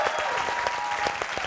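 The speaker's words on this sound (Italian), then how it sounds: "Un grande applauso" An Italian television studio audience claps in a steady burst of applause, close and lively, running throughout with no talk over it.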